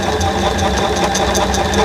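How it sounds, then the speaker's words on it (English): A Bernina sewing machine running a continuous stitch through fabric, a loud, close, fast mechanical whir with rapid even needle clatter throughout. "you'll see what I'm doing is a continuous stitch on all of these"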